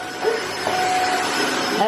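A household vacuum cleaner runs steadily in an apartment, giving off a constant loud whooshing hum with a faint whine, with no voices over it.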